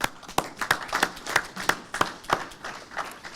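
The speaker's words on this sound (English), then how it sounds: "I think you deserve a round of applause" Applause from attendees at a board of directors meeting: a modest round of individual claps landing in a quick, fairly regular rhythm, close and distinct with no speech over it.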